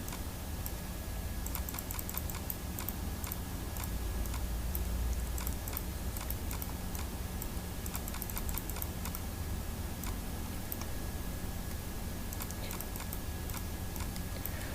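Rapid, light clicking of a computer mouse and keys during Photoshop editing, a steady run of small ticks over a quiet constant hum.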